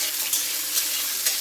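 Raisins and cashews fry in ghee over a low flame, giving a steady soft hiss and light crackle with a few faint pops, with no one talking.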